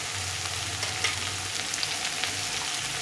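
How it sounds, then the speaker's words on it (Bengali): Pointed gourd, taro and ridge gourd fry in a pan, giving a steady close sizzle with soft stirring scrapes. "দিয়ে সবজিগুলোকে একটু ভালো করে ভেজে নিতে হবে"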